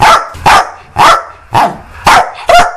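Dogs bark six times in loud, close, sharp bursts at a steady, roughly half-second pace, with no other sounds.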